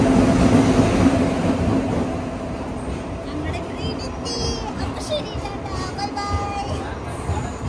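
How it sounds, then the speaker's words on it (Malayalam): A passenger train on a journey to Ongole rolls slowly into a station, its steady rumble and clatter filling the foreground while a background babble of voices and children's chatter carries over it. "അങ്ങനെ ഞങ്ങൾ ട്രെയിൻ എത്തിക്കൊണ്ടിരിക്കുന്നു മക്കളെ. അതാ വരുന്നു, അതാ വരുന്നു"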